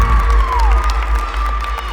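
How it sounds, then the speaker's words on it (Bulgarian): Spectators cheer and applaud the girls of a gymnastics ensemble, a crowd roar over a deep low rumble with a sustained tone running through it, loud and close throughout. "И сега да силни аплодисменти за нашите момичета!"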